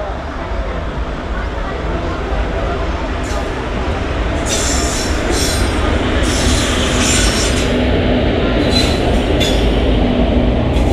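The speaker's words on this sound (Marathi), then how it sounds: "मुंबईवरून ट्रेन आले." A Konkan Railway passenger train between Diva and Madgaon rolls into a station near Mangaon with a loud, steady rumble, wheels squealing in bursts as it slows, close by and continuous.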